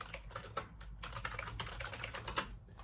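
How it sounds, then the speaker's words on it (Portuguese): Typing on a computer keyboard in a room, a steady run of close, crisp key clicks in short bursts with brief pauses, no voices. "Deixa eu até digitar ele aqui."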